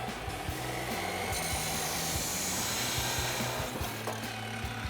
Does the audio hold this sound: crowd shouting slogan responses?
no